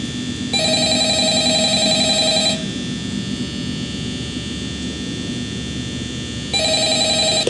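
A telephone rings in the video game Five Nights at Freddy's, with two loud electronic trilling rings separated by several seconds of quiet hum, the second starting near the end.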